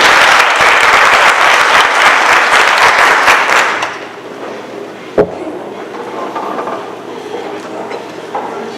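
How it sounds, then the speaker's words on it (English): Audience applause for schoolchildren at a school board meeting, loud continuous clapping for about four seconds, then it stops abruptly, leaving a single sharp knock and a quiet room. "Can we give these boys and girls one more round of applause?"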